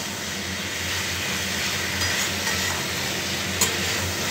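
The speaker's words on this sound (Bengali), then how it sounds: "তারপরে একে একে সয়াবিনগুলোকে ঢেলে নিয়ে ভালো করে কষবেন।" Soybean chunks are stirred and fried in a pan, making a continuous close sizzle with light scraping and a brief clink near the end.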